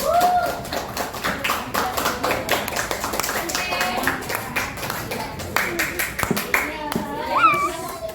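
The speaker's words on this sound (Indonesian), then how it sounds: "Oke, tepuk tangan untuk kelompok visual" Schoolchildren in a Jakarta classroom clap for a group during a lesson, with sharp rhythmic claps in patterned bursts close by, mixed with children's chatter and an adult voice throughout.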